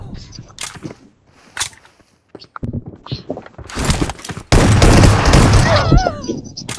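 S12K shotgun fire in a mobile shooter game, with scattered shots early on and then a dense, loud, sustained volley of rapid blasts in the second half, while a voice talks over the gameplay.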